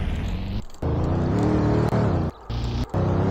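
In Garry's Mod DarkRP, a car engine revs and whirs loudly up close, broken by several abrupt brief dropouts as the game sound cuts in and out.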